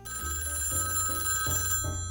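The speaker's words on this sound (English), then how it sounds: "The phone rang again." A telephone bell rings in quick repeated electronic pulses, fairly loud and close, with no voices over it.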